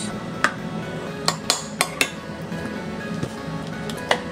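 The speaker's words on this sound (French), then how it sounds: "Dans un bol, tu mets 2 grosses cuillères à soupe de yaourt." A metal spoon scooping yogurt into a bowl, a string of bright clinks and taps of spoon on bowl spaced irregularly over a soft background, close up and with no talking.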